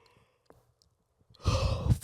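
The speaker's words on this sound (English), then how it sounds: "I do not mean to keep yawning" A man lets out a long, breathy yawn close to the mic, a drawn-out exhale that swells loudly near the end after a quiet stretch, with no speech.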